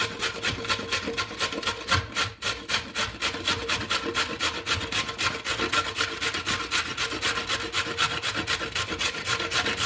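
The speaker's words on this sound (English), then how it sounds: "Then we're gonna go ahead and grate our carrots." Carrots are grated against the coarse side of a grater in fast, even rasping strokes that run continuously and close up, with a brief pause near the start and no talking.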